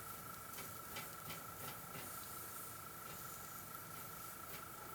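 Faint, steady hissing sizzle with soft crackles and pops from beef searing over a campfire, continuous and low in level throughout.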